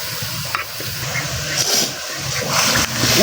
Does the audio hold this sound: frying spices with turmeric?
yes